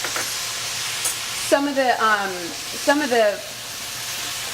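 Vegetable broth hits a hot pan to deglaze the stuck bits for a holiday vegan recipe, a steady loud sizzle and hiss with stirring underneath, while a person speaks briefly over it.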